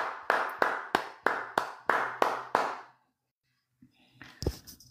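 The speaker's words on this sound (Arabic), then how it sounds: "تصفيق" A small audience claps in eight sharp, evenly spaced beats, then falls silent before a faint jumble of noise.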